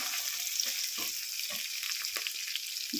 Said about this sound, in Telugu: దొండకాయలు అయితే ఫస్ట్ ఆయిల్లో ఫ్రై అవుతున్నాయి